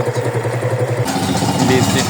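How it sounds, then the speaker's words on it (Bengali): A motorcycle engine runs close by as the bike rides through light rain on a town road, a steady low throbbing that shifts pitch midway, with no talking. "বাইক নিয়ে ঘুরতে মজাটাই আসলে অন্যরকমের"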